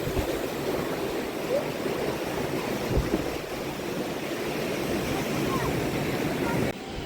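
Sea waves wash continuously onto a Kaliningrad beach, a steady, fairly close broadband rush of surf with gusts of wind, and no clear speech.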